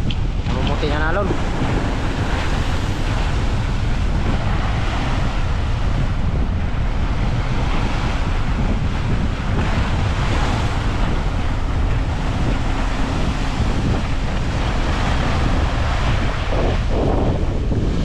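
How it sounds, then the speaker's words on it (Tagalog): Heavy sea waves surge around a boat at sea off Surigao del Sur, a constant rushing roar mixed with strong wind buffeting the microphone. The sound is loud and unbroken throughout. "Tingnan alon."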